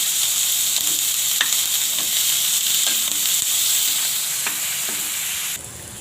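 Turmeric and coriander sautéing in hot oil for Punjabi poha give a steady, close sizzle with a few faint stirring taps and no voices.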